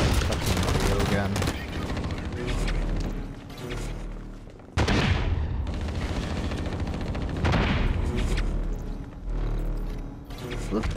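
Gunfire in the shooter game Bullet Run, BL Retribution, with repeated rapid bursts and single shots across the whole stretch, loud and close, mixed with game effects, under someone talking.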